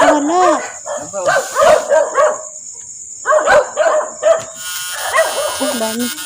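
Loose dogs bark in clustered runs of yelps and woofs during traditional electric fishing, close by. Voices mix in, with a thin high whine and a bit of insect buzz underneath.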